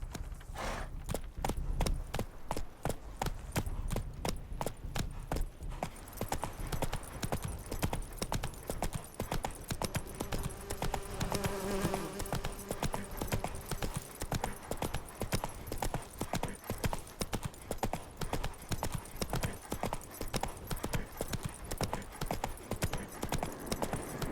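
Roach, a horse in The Witcher 3, gallops in a steady, fast clip-clop of hooves that runs throughout, close and continuous, with a brief whinny near the start.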